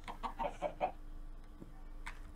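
A chicken in the video game Minecraft clucks in a quick run of four or five short notes, then falls quiet apart from a faint later chirp, with no talk over it.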